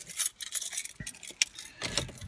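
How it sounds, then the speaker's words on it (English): Keys jangle and clink in close, irregular bursts while being handled, with a car audible faintly in the background. "just do my keys as well, because obviously I had to handle them for my club card points"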